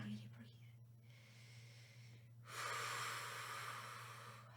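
Quiet, close breathing during a yoga lesson, with soft inhales followed by a longer, airy exhale that swells midway and fades slowly.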